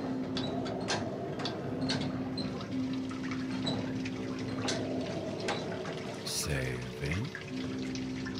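Water running and dripping in the sewers of the horror game Outlast, a steady pouring wash with scattered drips and a louder splash near the end, while someone talks quietly over it.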